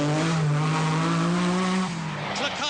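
A Lancia Stratos rally car races flat out on a stage of the 1979 RAC Rally, its engine a loud, sustained drone that holds steady, then drops in pitch and briefly settles lower toward the end.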